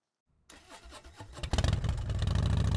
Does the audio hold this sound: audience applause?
no